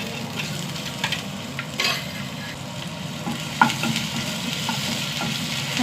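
Crushed cumin and garlic cloves sizzle steadily in hot oil in a pan, a continuous close frying crackle with occasional stirring scrapes and one sharp clink.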